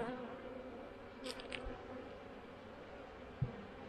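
Honey bees droning steadily at an open hive treated with Formic Pro, a soft continuous buzz throughout with a couple of brief louder passes near the microphone.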